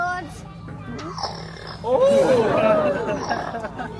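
A voice grunts and snorts in imitation of a pig, a short rough oinking burst that rises and falls, close and fairly loud, from a bird taught animal sounds at a safari park.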